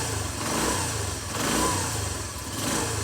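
A small engine with a newly replaced piston being gently revved up and down, a close, steady mid-pitched drone that rises and falls in smooth swells, with no voices.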